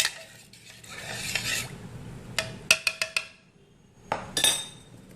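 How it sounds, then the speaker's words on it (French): Spoon stirring yeast dough for gbofloto in a bowl, soft scraping swirls followed by several sharp clinks of the spoon against the bowl, close and fairly quiet. "Je remue."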